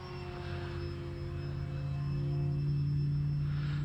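Small yellow and black RC airplane flying, its electric motor a steady whining drone that grows gradually louder and rises slightly in pitch as it passes.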